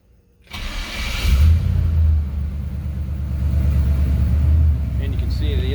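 A 1967 Chevrolet C10 pickup engine cranks and catches, then settles into a loud, steady low rumbling idle close by, holding for several seconds with a slight rise in level toward the end.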